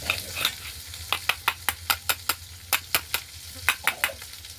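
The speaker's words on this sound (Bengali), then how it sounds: "মাছগুলো ভাজা হয়ে গেছে।" Bata fish frying in a pan in a rural Bengali kitchen, with a spatula stirring and scraping about a dozen times in a quick, regular rhythm over a steady background sizzle.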